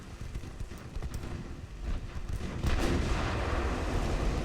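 Naval guns fire in the Ultimate Admiral: Dreadnoughts warship game, a series of dull booming reports scattered over a rumbling battle background that grows heavier toward the end.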